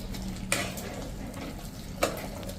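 Grated potato being stirred by hand in a bowl, with soft continuous scraping and two sharper knocks of utensil against the bowl, close and moderately quiet.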